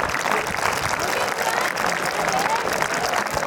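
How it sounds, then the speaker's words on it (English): A hall audience gives a big round of applause for three departing teachers at a St Joseph's College farewell. The clapping is continuous and dense, steady in loudness, with no voices standing out. "So give a big round of applause for our teachers."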